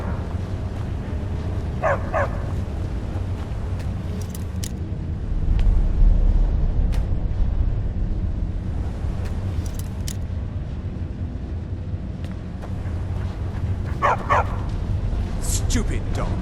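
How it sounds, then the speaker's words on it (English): A dog in the Skyrim video game barks in a couple of short, distinct bursts a few seconds apart, heard amid ambient game sound and surrounded by character voices. "Stupid dog."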